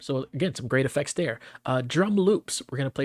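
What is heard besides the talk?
None of the usual background noises is heard.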